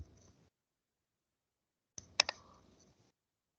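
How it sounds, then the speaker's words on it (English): A few sharp computer mouse clicks close together, a right-click on a Windows 10 PC, heard near and clear in an otherwise quiet room with faint background murmur. "Right click."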